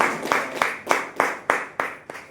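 An audience claps at a business talk: eight evenly spaced, crisp hand claps in a steady rhythm, moderately loud and fairly close, with no voices over them.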